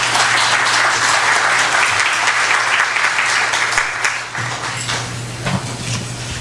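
An audience at an education conference applauds to welcome a speaker. The loud, dense clapping fills the room, then thins and fades in the last couple of seconds.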